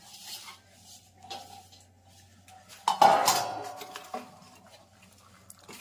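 Gond pak ingredients, including coconut, being stirred and mixed in a metal pan, giving soft scraping and clinking of utensil on metal with a louder burst of clatter midway, close and fairly quiet.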